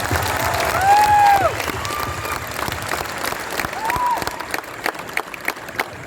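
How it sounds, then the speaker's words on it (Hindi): A huge indoor crowd of around fifteen thousand people claps loudly at a seminar in Manyaguda. Faint whistles ring over the applause, which fades into scattered, thinning claps. "मेरे ख्याल से सब लोगों के लिए एक जोरदार ताली होना चाहिए"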